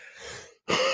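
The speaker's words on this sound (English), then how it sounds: "all of a sudden I was overcome by a coughing attack." Two short, harsh throat-clearing coughs, close and loud, separated by a brief silence.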